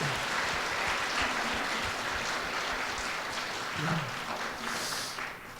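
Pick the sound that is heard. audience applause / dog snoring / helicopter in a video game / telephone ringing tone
audience applause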